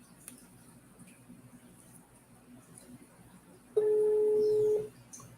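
A telephone dial tone or keypad signal sounds as a single steady electronic tone for about a second, rising clearly above quiet room noise with faint speech around it.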